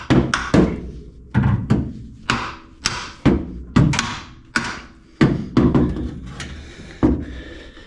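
Hammer blows strike a seized exhaust manifold on a car, loud close metallic thuds and knocks in irregular bursts, about a dozen hits, some in quick pairs, each decaying with a short ring.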